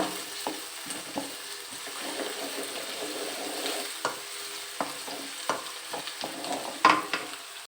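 Ingredients being stirred in a frying pan as they cook until reddened, a low background sizzle broken by irregular scraping and knocking strokes of the spoon against the pan, close and moderate in level.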